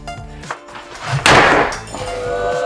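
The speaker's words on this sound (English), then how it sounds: "Let's see if I can take this hammer and with one shot make a hole in this." A single heavy hammer blow smashes through a tiled shower wall, a loud crack with a brief clattering, glassy crunch of breaking material.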